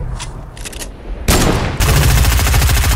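A sniper shot in the video game Fortnite goes off as a sudden loud blast, followed by a dense, rattling burst of game noise that continues to the end.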